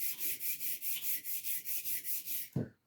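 A blade is rubbed back and forth on a sharpening stone to take off the burr, giving about a dozen steady, even abrasive strokes up close before a brief knock and silence.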